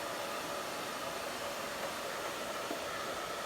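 A hair dryer with a diffuser attachment blows a steady, even rush of air for the whole stretch, close and unbroken, with no voices.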